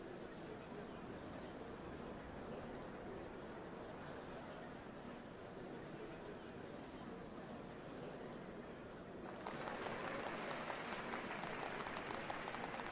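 In the Final Fantasy XIV game, a large crowd at the Dawnservants changing ceremony keeps up a steady roar of applause and cheering that swells louder toward the end.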